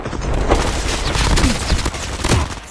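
Rapid bursts of gunfire in a video game shooter crackle and boom continuously, loud and dense, with no talking over them.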